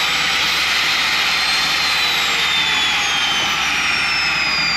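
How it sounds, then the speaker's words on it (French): An electric vertical saw motor, built like a circular saw motor but cutting up and down, runs continuously with a loud, steady high-pitched whine and no voices. "c'est le même moteur qu'une scie circulaire ou ce genre de choses, mais ça travaille verticalement comme ça"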